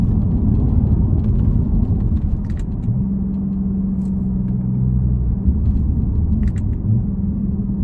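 A 2019 Audi RS5 2.9 V6 TFSI Sport Edition Quattro Sportback exhaust gives a deep, steady rumble at moderate distance, with a low drone settling midway and a few faint crackles and pops scattered through.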